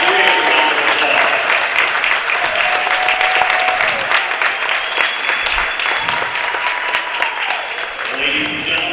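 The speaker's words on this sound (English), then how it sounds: "Now let's give them all a great round of applause." A crowd in a basketball arena applauds honored football coaches, steady dense clapping filling the hall throughout, with whistles and cheers rising over it at moments.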